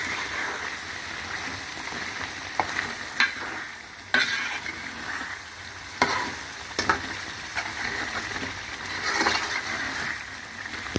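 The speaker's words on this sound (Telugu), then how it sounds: "ఇలాగా ఫ్రై చేసుకోవాలండి." Masala-coated pieces frying in oil, a steady close sizzle with intermittent scraping stirs and spoon clicks against the pan throughout, no talk.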